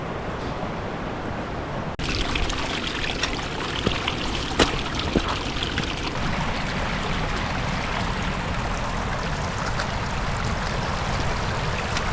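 A river in flood after a storm, risen a couple of feet above its usual level, rushes and churns steadily in a broad continuous roar, with rain falling nearby and brief sharp splashes over the water.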